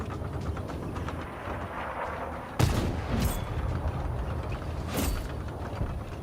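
Tank cannon fire in a tank video game, two sharp, loud broadband blasts a few seconds apart over a continuous mechanical engine and track rumble.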